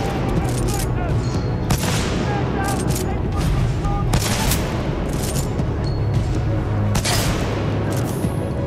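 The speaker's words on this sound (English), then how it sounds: "Commencing supporting fire." Sustained supporting gunfire in the Titanfall 2 video game, rapid automatic bursts layered with heavy booming blasts and explosions, loud and continuous throughout.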